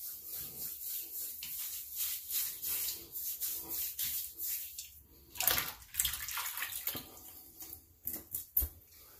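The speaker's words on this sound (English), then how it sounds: "Let's do a quick rinse." Running water splashes as a shaving razor is rinsed under a tap, with irregular rubbing and splashing bursts that are louder toward the end; no talking.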